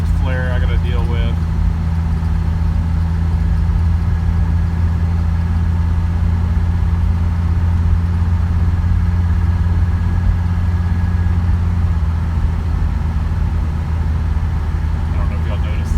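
A Mercedes 300D diesel car with its center muffler deleted drives steadily, its engine giving a constant low drone and rumble throughout, with a faint rattle at the start and end.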